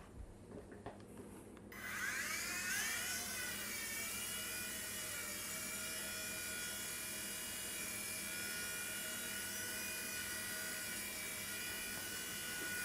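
A small WLtoys V911 RC helicopter spins up indoors and hovers, its high whining rotor buzz starting abruptly after a few quiet handling sounds and then holding steady and close.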